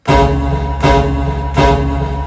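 Three heavy sampled drum hits pitched down two octaves, each a booming, sustained low thud with a long rumbling tail, evenly spaced about three-quarters of a second apart, loud and alone.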